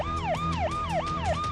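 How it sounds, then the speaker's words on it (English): Police car siren in the video game Police Tactics: Imperio, a loud wailing tone sweeping down and back up in a fast repeating cycle, about four swoops in quick succession with nothing else over it. "Those sirens better be on"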